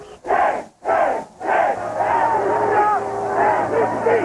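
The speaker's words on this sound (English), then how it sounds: "Along much of the parade route, President Bush ran a gauntlet of protesters" A crowd of protesters along the 2001 presidential inauguration parade route for President Bush shouts and chants in loud, rising bursts of massed voices, with a sustained roar of crowd noise beneath.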